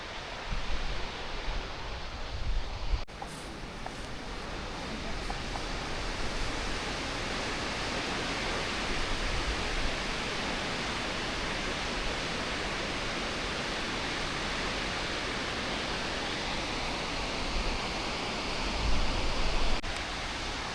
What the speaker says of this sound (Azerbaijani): bu şəlalənin adı Dəhnə şəlaləsidir